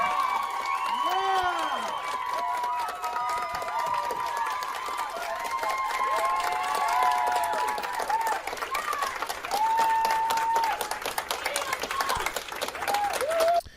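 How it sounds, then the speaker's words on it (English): Sustained applause and cheering from a crowd after a vote, with whoops and harmonic voices rising over the clapping throughout, fairly loud and continuous. "And what are they applauding?"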